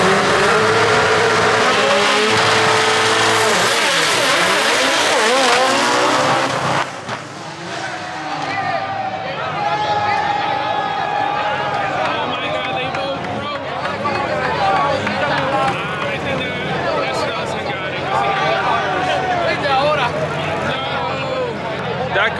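Green Mitsubishi Evo drag car launching hard at a packed drag strip, a loud engine roar at first that cuts off sharply about a third of the way in, followed by busy crowd and track noise with people talking.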